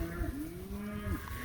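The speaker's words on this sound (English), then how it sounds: "I can still see cows coming." Cattle moo out on a clover and orchard-grass pasture, with a long, drawn-out low call sliding slightly in pitch, set against a soft outdoor background.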